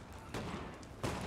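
Musket volleys from line infantry in the Napoleon: Total War video game, Prussian campaign against Spanish troops, two loud crackling bursts, one early and one near the end, over a steady battlefield rumble.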